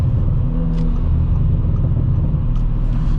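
A 2018 Audi S4 with its 3.0T engine rumbles steadily from inside the cabin on a test drive, a continuous low drone of engine and road noise with no talking.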